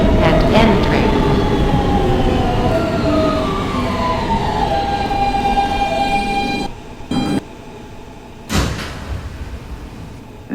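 An R160B Siemens W subway train rolls along the D line toward Bay Parkway, its loud steady rumble and whining motor tone filling the car, easing into quieter moments near the end with a brief burst of door or track noise.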